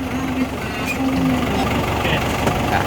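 A steady, low Ford 6640 tractor engine drone idles continuously throughout, with a faint tonal hum riding on top and some background noise.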